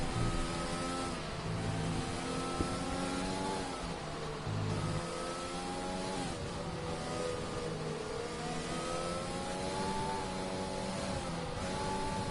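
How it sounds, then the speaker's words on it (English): Two Ferrari race cars in a racing video game on a Japan circuit roar by with rising and falling engine tones, a continuous loud run of passing and shifting revs with no voices. "Two Ferraris getting past each other now."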